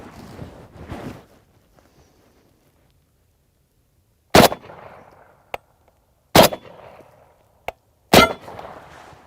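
An M1A rifle with a 22-inch barrel fires from about 20 feet at a SPARTAN Armaply Level III+ body armor plate: three loud, sharp cracks, each with a short ringing tail, separated by quiet gaps with a few small clicks.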